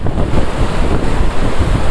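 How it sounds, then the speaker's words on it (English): A waterfall roars steadily from just downstream on a hot-weather Rocky Mountain trip, a loud, dense, unbroken wash of falling water mixed with some wind buffeting on the microphone. "Okay, so here is downstream of the waterfall."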